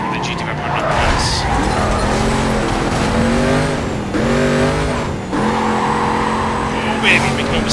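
A drivable AI police car in Need for Speed Carbon, a quick muscle car with a dashboard-mounted radar, hums along with a steady engine drone that rises and falls in pitch as it drives, with tyre noise and talk over it.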